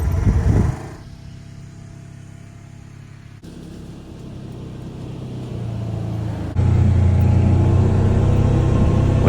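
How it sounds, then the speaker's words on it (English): Side-by-side UTV driving across a field at dusk to pack seed into the soil, a steady engine rumble and drive noise that grows louder and closer toward the end, with no talking. "So now I'm gonna be packing the seed in with the side-by-side."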